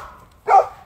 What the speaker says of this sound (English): Ladybird, your barking is not conducive to my life.